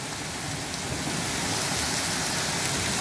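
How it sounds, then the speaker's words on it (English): Heavy rain and hail pour down steadily on a yard, sidewalk and roof, making a dense, continuous hiss and patter that stays loud and even throughout, with no talking. "Look at all the hail."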